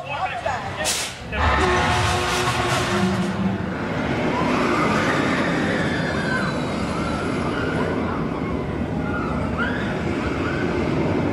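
A sharp whoosh and burst of noise at the start as a launched roller coaster train dispatches at Six Flags Fiesta Texas, then a loud, steady rushing roar of the train in motion with faint voices.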